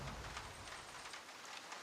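Steady rain pours in Far Cry 6, a dense continuous hiss with a faint low rumble underneath, no speech.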